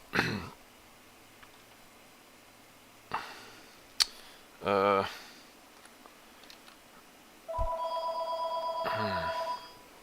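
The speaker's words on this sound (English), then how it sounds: "That's my phone, not yours." A phone ringing indoors with short, steady electronic ring tones repeating near the end, after scattered clicks and taps at a quiet level, with faint talk in the background.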